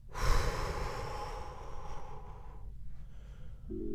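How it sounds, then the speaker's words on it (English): A deep breath drawn in through the nose and released as a long, audible sigh-like exhale, close and quiet, fading into near silence, with no talking. "take a deep breath into your belly. And I want you to open up your posture with your exhale"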